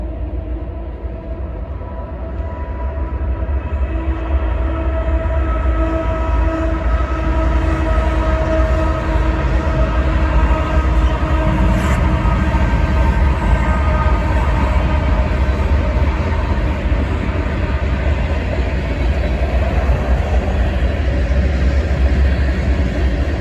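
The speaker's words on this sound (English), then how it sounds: "my mom was able to get another southbound mixed freight train going down the Sandusky district as well shortly after I got inside" A Norfolk Southern southbound mixed freight train rolls past on the Sandusky district in central Ohio, a loud, steady rumble of wheels and cars that swells in the first seconds and holds, with tonal squeals and a brief horn-like note.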